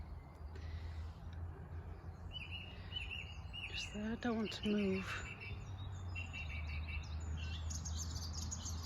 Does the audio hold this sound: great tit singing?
yes